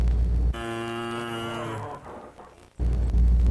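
A single long, close moo from a cow on a dairy farm, deep and steady for over a second before trailing off, set among low rumbling farm noise.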